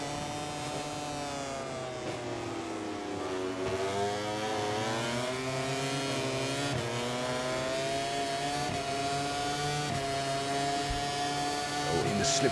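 Aprilia racing motorcycles roar through a MotoGP 24 video game race, a steady high-pitched engine whine with rising and falling pitch as bikes run in close slipstream, loud and continuous throughout with no talking.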